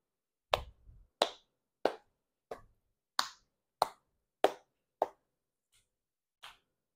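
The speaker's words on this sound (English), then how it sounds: "Sit for 15 seconds while you clap." Single hand claps during a dog relaxation training exercise, about ten sharp, separate claps spaced roughly half a second to a second apart in a quiet room, the last few fainter.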